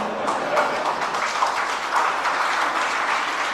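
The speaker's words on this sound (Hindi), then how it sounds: "क्या तालियां बजा रही?" Audience applause in a hall during a spiritual discourse, broad steady clapping from many hands, moderately loud and sustained without a break through the whole stretch.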